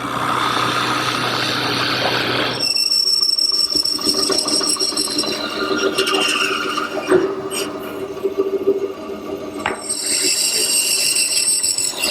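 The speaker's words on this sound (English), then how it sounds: "I'm now drilling holes for the dowels" A power drill with a 7/8 inch bit whines and grinds through wood drilling dowel holes, its pitch shifting as the bit bites in, steady and close with brief squeals.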